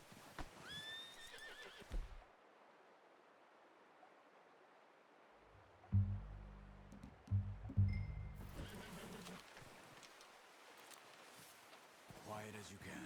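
A horse whinnies and snorts in Red Dead Redemption 2, with heavy hoof clip-clops midway amid quiet outdoor ambience, and brief voices at the start and end.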